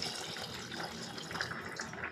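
Water is poured into a cooking pot of mutton paya curry before pressure cooking, a steady close splashing and trickling with no talk.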